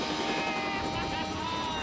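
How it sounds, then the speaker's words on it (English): Helicopters hover in position for an outdoor test, their rotors and engines making a loud, continuous roaring thrum with no break. "helicopters in position and ready for the test."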